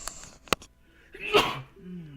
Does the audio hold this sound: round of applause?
no